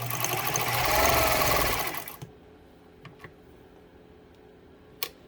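A Pfaff 230 sewing machine runs a wave stitch in a steady, close whir for about two seconds, then stops, leaving a few faint clicks and a sharp tick near the end.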